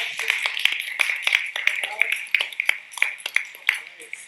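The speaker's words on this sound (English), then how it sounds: "give yourself a round of applause." Scattered handclaps from an audience at a Juneteenth international human rights workshop, sharp separate claps in an irregular rhythm from a modest group, with voices chattering underneath.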